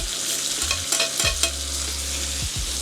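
Shrimp and tomatoes fry in a pan and are stirred with a spoon, giving a steady close sizzle broken by a few scraping stirs against the pan.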